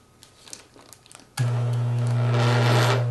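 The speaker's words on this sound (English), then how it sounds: "Turn the vibrator on low and place the bowl on the work surface." A vibrator switched on low under a plaster mixing bowl kicks in abruptly after a quiet stretch, giving a loud, steady electric hum with a rattling buzz that holds for the rest of the clip, alone without voices.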